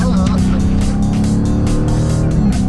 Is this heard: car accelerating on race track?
yes